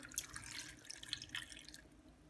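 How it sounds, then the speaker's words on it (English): Water pours from a cup onto rough-chopped peeled potatoes in a pot, a faint, brief splashing trickle with light dripping, heard alone. "I'm going to add 2 cups of water."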